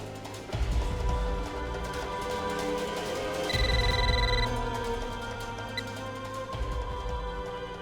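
An outgoing telephone call gives a single brief ringing tone partway through, fairly faint against a busy background of low ambient sound and music, with no talking.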